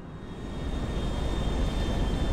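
A giant passenger airplane in GTA Online roars with a steady, swelling engine rumble and thin whine, heard close and alone with no voices.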